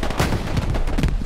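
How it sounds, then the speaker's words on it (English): Mortar fire in Hell Let Loose, a series of heavy booming reports in quick succession, loud and close with a deep low rumble. "The mortar's right here. And it's being fired."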